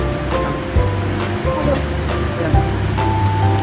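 Pad thai noodles with seafood, pork and egg sizzle and hiss as they are stir-fried in a wok at a festival food stall, a continuous frying crackle under nearby talk.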